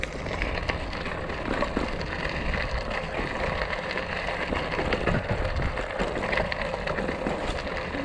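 Rain falling during an outdoor cycling ride, a dense, steady broadband hiss and patter at moderate level, continuous for the whole stretch with no voices.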